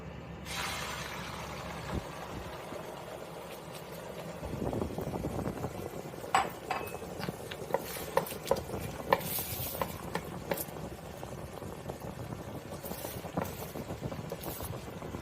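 Beaten mushroom egg frittata mixture hits a hot pan and is stirred, a steady sizzle under scraping and clinking of a utensil against the pan, with sharper taps and knocks in the latter half.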